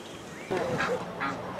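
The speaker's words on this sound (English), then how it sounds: "These rude geese demanding their breakfast." Geese honk nearby in a short burst of two or three calls at breakfast time beside a river at Port Saint Johns in South Africa, with faint background ambience.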